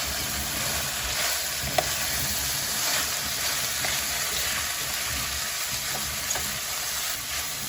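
Shrimp and vegetables for fajitas sizzle steadily in a hot pan, a dense, even frying hiss with a few small pops and clinks, close by and with no talk.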